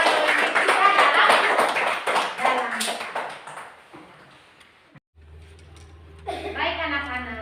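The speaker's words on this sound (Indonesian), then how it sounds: "Ibu berikan tepuk tangan kepada teman kita Cika" Children in a classroom applaud in a dense burst of clapping that fades over a few seconds, followed by an adult voice speaking and more children's voices.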